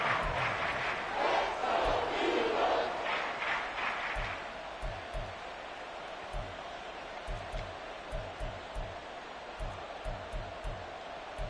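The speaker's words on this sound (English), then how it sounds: "This crowd turning up the decibel level." A football stadium crowd roars loudly at first, then settles into a lower din punctuated by rhythmic thumping beats.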